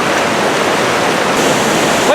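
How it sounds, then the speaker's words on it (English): A waterfall spills over a Civil War era dam on Vickery Creek, a loud, close, constant broadband roar of rushing water filling the whole moment, with a brief voice starting at the very end. "And there it is, the waterfall made by way of a Civil War era dam."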